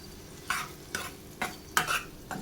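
Ground cashew paste stirred into a frying masala for methi curry, a quiet sizzle broken by four or five distinct scraping spoon strokes at a steady rhythm, close by and without talk.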